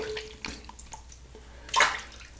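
Shaving brush lathered with Ambra shave soap being rinsed under running water, a brief close splash and trickle that swells into one louder rush of water near the end.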